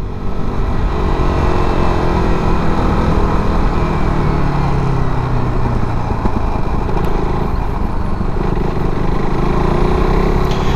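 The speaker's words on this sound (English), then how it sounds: "I'm doing a night ride, riding the KTM RC 390" KTM RC 390 motorcycle ridden at night through Hyderabad, its single-cylinder engine droning loudly and steadily with shifting pitch as it cruises, close and continuous with heavy wind rumble.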